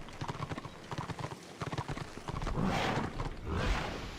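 A mount's hooves clop in a quick, rhythmic gallop in Warhammer Online, close and clear for a couple of seconds before giving way to louder rumbling game noise.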